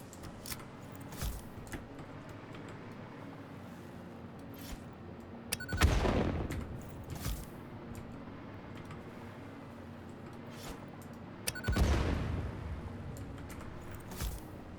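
Gunfire in the video game Satisfactory: two sharp, loud shots with short echoing tails, spaced about six seconds apart over a low steady ambient hum, with small scattered clicks in between.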